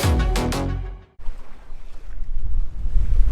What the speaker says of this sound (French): Le bruit de l'eau et du vent.